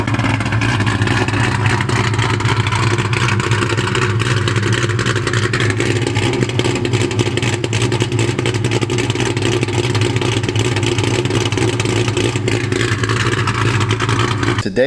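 A cammed Ford SVT Cobra Terminator V8 heard from outside the car, a loud, steady, lumpy engine roar with a choppy idle character holding for the whole stretch, close to the microphone.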